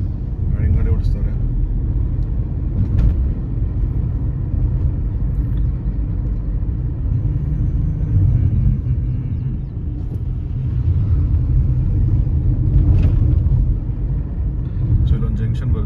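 A vehicle driven along a road near Nelamangala, Bengaluru, gives a steady, loud low rumble throughout, with a voice talking over the engine and road noise.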